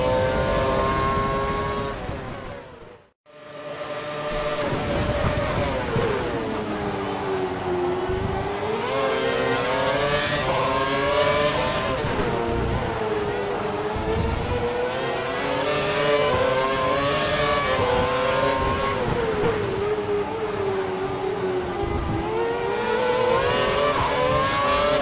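Race cars in a racing video game at the Austin circuit rev and accelerate continuously, engine pitch sweeping up and down through gear changes after a brief cut near the start, loud and close with no talk.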